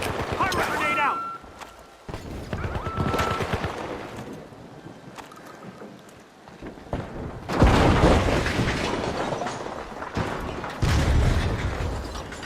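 Grenade blasts in the shooter game The Finals land as heavy booming bursts, one around the middle and another near the end, mixed with game effects and a voice talking over the action.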